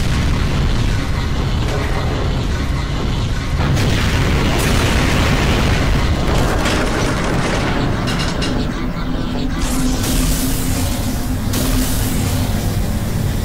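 Dense, continuous booms and bursts of explosions from a Skibidi Toilet invasion animation, loud throughout with heavy low rumble and no clear break.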